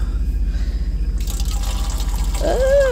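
An automatic water dispenser in a truck runs with a steady pulsing flow, close and fairly loud, ending in a brief rising gurgle or squeak.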